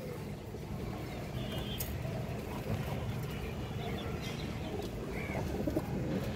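Fancy pigeons, including Bagha birds kept for sale, coo faintly in low, repeated murmurs beneath a steady background rumble.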